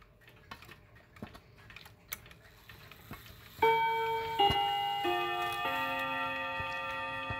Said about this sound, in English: It does have really nice whistle chimes.